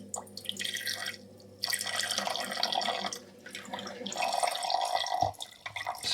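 Water begins running from a heating radiator's bleed valve after trapped air has hissed out, a close, steady trickling and dripping with brief pauses, no talk over it.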